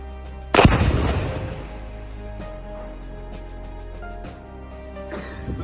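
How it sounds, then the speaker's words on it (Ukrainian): A single loud, sharp bomb detonation with a booming low rumble that decays over about a second, followed by quieter outdoor ambience and a few faint pops. "Зараз щось буде якийсь великий бабах."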